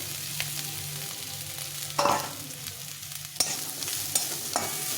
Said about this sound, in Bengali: গাজরটা একটু ভাজা ভাজা হয়ে গেছে